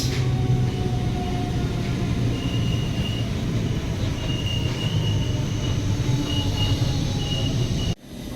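Vasco Tirupati Express passenger train rolling along the line, a steady loud rumble of wheels on track with intermittent squealing tones, heard from aboard, cutting off abruptly near the end.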